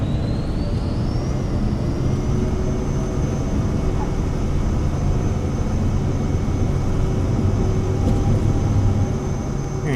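Cirrus Vision Jet engine at full throttle during takeoff, a steady loud jet roar with a rising whine that settles into a constant high tone, continuous throughout.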